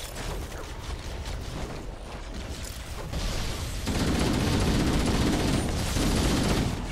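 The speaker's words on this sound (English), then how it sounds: "I killed another one with a rocket launcher." Rocket launcher fire in Halo: The Master Chief Collection campaign, loud and close amid a constant wash of battle gunfire, with the din swelling in two steps into a dense, heavy rumble of blasts through the second half, no voices.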